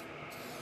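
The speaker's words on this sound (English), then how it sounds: "So ideally, I would come around from the back and make sure that I'm also spraying behind this." An airbrush spraying paint onto a walleye fish mount gives a brief, steady airy hiss, close and even throughout the short burst.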